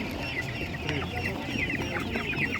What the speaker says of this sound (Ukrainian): Так, ось така курка Master Grey.